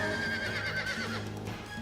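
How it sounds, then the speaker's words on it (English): Horses whinny loudly in a video game, Suikogaiden 2, a sustained close neigh over a dense game soundtrack as bandits spur their mounts. "the nearby bandits quickly spurred their horses, and Miklotov and I were quickly cornered."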